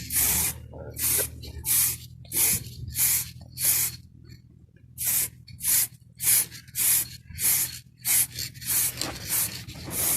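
Short hissing bursts from a spray can apply a light coat of paint to a BMW E34 520i wheel, repeating about a dozen times at an irregular pace, close up, with brief quiet gaps between.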